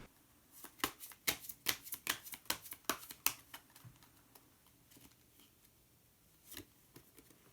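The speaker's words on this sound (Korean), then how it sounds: "한 장의 카드를 더 뽑고 이야기 계속 나오도록 하겠습니다" Tarot cards shuffled rapidly in a close, crisp flurry of slapping riffles over about three seconds, followed by quieter handling and a single snap as a card is pulled from the deck.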